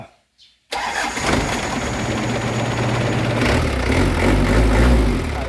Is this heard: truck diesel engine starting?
yes